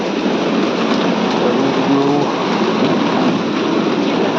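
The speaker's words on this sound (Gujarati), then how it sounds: "જોઈ લો તમે વરસાદ ચાલુ થઈ ગયો" Steady, loud rain pours down in sudden heavy fall during hot weather, a dense continuous hiss and patter close by with no pauses and no voices over it.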